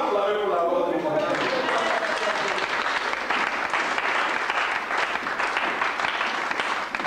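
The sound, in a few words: congregation applauding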